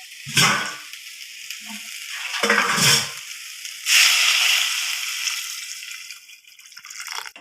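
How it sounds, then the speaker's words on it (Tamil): Water poured into a pan of beetroot sambar, several splashing pours and trickles in separate bursts, close and moderately loud, with quieter dripping between them and no talking. "தண்ணி ஆட் பண்ணுறேன்"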